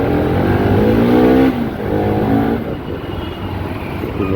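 Steady car traffic on a road leading to a Sheetala Mata temple fair in India, with loud continuous engine hum and revving from nearby vehicles that rises and dips without a break.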